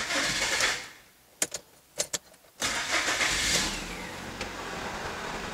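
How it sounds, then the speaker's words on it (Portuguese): A Citroen car with a fuel system fault being started after pressurising the fuel system: a brief hiss, a few short cranking clicks, then the engine catching and settling into a steady close idle with no talking. "Vou dar a partida no carro aqui para pressurizar o sistema."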